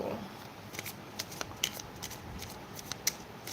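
Tarot cards are shuffled close by, soft papery riffles and taps repeating irregularly over a quiet hiss, with no talking.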